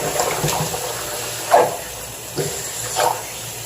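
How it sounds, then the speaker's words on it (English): A bathroom sink faucet runs steadily while a brush is rinsed under it, a close hiss of flowing water broken by a few brief splashy surges. "I'm gonna get the faucet running, and that will be a significant help in cleaning this brush."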